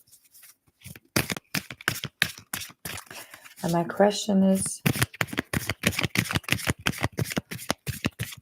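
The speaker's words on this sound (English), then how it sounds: "And then I will start shuffling the cards." Tarot cards are shuffled close up in rapid, rhythmic riffles, with a person speaking briefly in the middle of the shuffling.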